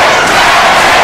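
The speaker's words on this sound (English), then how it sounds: "The crowd calling for Magic Johnson once again" A packed arena crowd at a vintage NBA basketball game roars and chants in unison, a dense, loud wall of voices that holds steady throughout.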